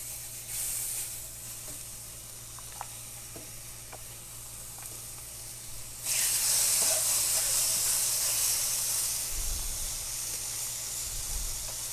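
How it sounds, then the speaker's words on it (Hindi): Marinated chicken thighs dropped into a hot pan, a soft background hiss jumping to a loud, steady sizzle halfway through that continues to the end. "और जब ये अच्छे तरीके से गर्म हो जाए तो इसमें आपने ये जो चिकन मैरिनेट किया था ये डाल देना है।"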